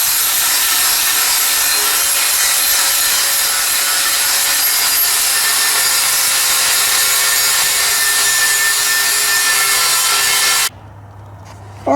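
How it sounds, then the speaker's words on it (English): An angle grinder fitted with a flat disc smooths a weld on a brand new tractor wheel, giving a loud, steady abrasive whine that runs close and unbroken before stopping abruptly near the end. "come back with a grinder and the flat disc and smooth the weld back out and get it back polished up"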